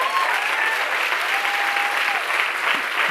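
An audience at a spiritual discourse on scripture claps steadily in a dense, continuous wash of applause, with faint background voices audible beneath it.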